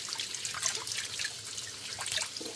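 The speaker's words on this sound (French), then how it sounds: "On va prendre une passoire, on va les mettre. Et on va les rincer." Water running and trickling over grilled aubergines, courgettes and peppers in a colander during rinsing, a steady close splashing stream with small drips throughout.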